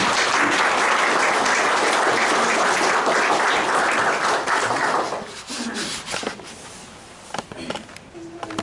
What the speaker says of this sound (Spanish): Un aplauso para el hermanito Neri.